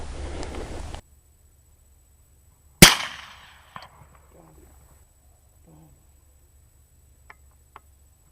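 A single sharp, loud crack from an Alexander Arms 6.5 Grendel rifle fired during a night thermal hog hunt in Palo Pinto County, decaying quickly with faint echoes and a few small knocks afterward in near silence.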